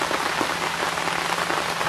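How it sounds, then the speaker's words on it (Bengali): Steady rain falling in a jungle, a dense, even hiss of drops pattering on leaves and surfaces, continuous and fairly loud with no voices. "অনেকদিন পর আমরা জঙ্গলে বৃষ্টি পেলাম"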